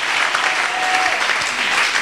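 A church congregation breaks into steady, dense applause after the Gospel reading, many hands clapping at once, loud and close, with a faint voice underneath.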